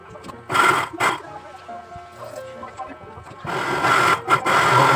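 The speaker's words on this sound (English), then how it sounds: "Carefully put the papers into the blender." A blender pulps soaked paper with plenty of water, its motor whirring in short bursts: two quick pulses, then a longer steady run near the end.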